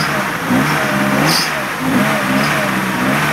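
Car engine running and revving after a battery rejuvenation, a loud close drone that rises and falls in a few swells, with some voices talking under it.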